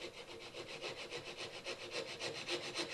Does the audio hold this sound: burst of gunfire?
no